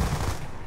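Rapid gunfire in the Call of Duty Black Ops 2 Zombies game, Mob of the Dead map: a short, dense burst of loud, heavy shots with low booming weight, no speech heard.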